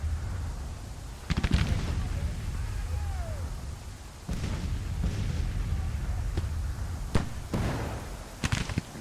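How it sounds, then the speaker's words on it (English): Artillery fire in the Civil War strategy game Grand Tactician: repeated booming cannon shots at irregular intervals, some sharp and near, others duller and distant, over a steady rumbling battlefield background. "They're probably taking the brunt of all this artillery fire."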